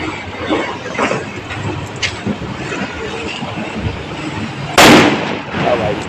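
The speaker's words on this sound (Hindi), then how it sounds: "भाई गोदाम पे आलू बम फोड़ना स्टार्ट कर दिया है।" An aloo bomb firecracker explodes with one sharp, loud bang that echoes at a warehouse during Diwali, amid scattered distant pops and background rumble.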